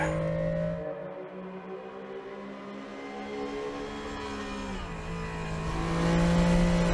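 A modded car in the Assetto Corsa racing game revs hard down a fast straight, its engine note rising and dipping through the gears before climbing loudly again toward the redline, with no voices.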